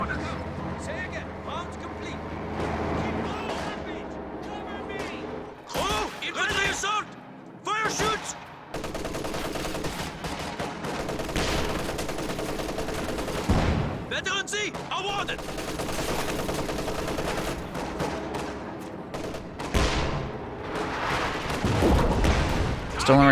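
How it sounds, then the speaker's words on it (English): Rapid autocannon fire from a veteran Panzer IV in a WWII strategy game match, bursts of gunfire and booms amid battle noise under continuous commentary. "super rapid fire autocannon,"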